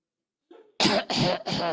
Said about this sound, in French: Ne toussez pas, ne toussez pas.